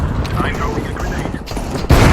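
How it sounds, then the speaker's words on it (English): Counter-Strike 2 grenade play: clattering gameplay noise and scattered thuds, then a sudden loud burst at the end as the grenade explodes, with a voice talking over the action. "I'm throwing a grenade."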